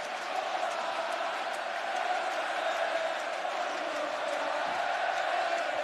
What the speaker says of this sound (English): And there's a good performance by the crowd as well, as you can imagine.